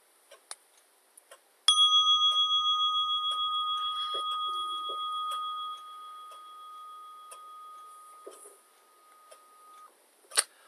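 A meditation bell is struck once, giving a clear ringing tone that rings out long and slowly fades, with a few faint clicks and rustles before and after in an otherwise quiet room.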